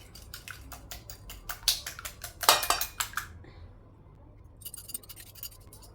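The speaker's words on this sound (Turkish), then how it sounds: "İçine yumurtamı karıştıracağım." Utensil clinking against a bowl while egg is stirred into cooked, slightly cooled, salted vermicelli for a pan börek dough: rapid metallic taps, a short pause, then a few more clinks.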